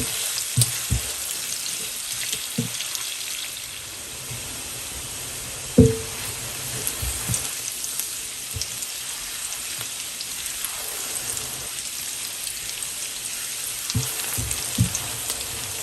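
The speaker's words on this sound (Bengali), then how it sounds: "দেখতেই পাচ্ছেন পেঁয়াজটা আমি পাঁচ মিনিট ভেজে নিয়েছি" Sliced onions frying in a pan as the base for a coral fish curry, a steady soft crackling sizzle throughout with a few sharp clicks and knocks of a utensil against the pan, no one talking.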